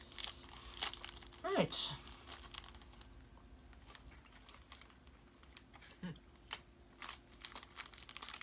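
Plastic packaging of salt and vinegar crickets crinkles and rustles in short bursts as it is opened, close up, with a brief spoken word partway through.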